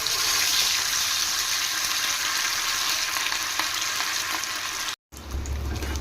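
Fish pieces frying in oil for a Nellore-style fish fry, a loud continuous close sizzle with stirring, cut off briefly near the end before a short low rumble.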